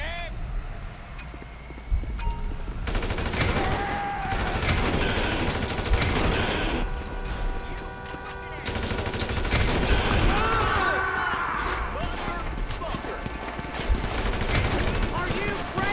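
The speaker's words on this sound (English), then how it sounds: "There's a guy with a gun!" Rapid gunfire from an armed man in the video game GTA 5, bursts of shots and automatic fire crackling over several seconds amid a busy street scene, with people talking and shouting in between.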